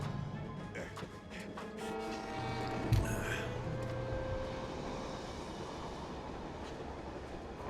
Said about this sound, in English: Can we try to stick to one train from now on? That sounded close.